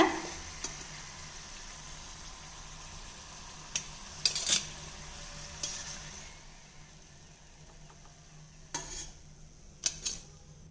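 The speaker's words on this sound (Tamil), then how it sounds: "எண்ணெய் வந்து கொஞ்சம் மிதமான சூட்லேயே பொரிச்சுக்குங்க" Somas deep-frying in moderately hot oil, a steady low sizzle broken by several sharp metallic clinks and scrapes as a utensil stirs the pot, close and with no talk.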